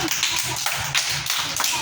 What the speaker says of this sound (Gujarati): તાળી પાડો બધાય